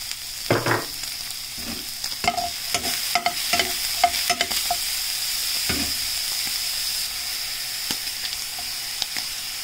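Onion sautéing and being stirred in a pan with oil from fried pork belly: steady close sizzle under repeated scraping stir strokes, clustered in the first half and thinning toward the end, with no talk.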